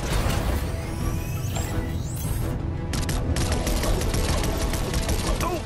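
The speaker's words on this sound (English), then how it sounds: "I was hoping we'd have an excuse to try out the Battle Bus's laser cannons." Fortnite battle with the Battle Bus's laser cannons firing at drones: a dense, continuous barrage of crackling shots and clatter, loud and busy throughout with streaking zaps overhead.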